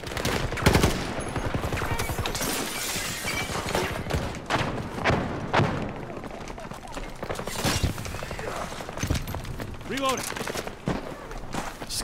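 The Factory GEW rifle in Battlefield 2042 fires in rapid, closely spaced bursts, dense and continuous across the stretch, mixed with thuds and other battle noise.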